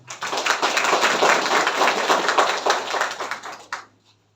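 Audience applause at an award ceremony for outstanding study awards, a dense burst of clapping filling the room for about three and a half seconds before stopping abruptly, with a few faint claps trailing off.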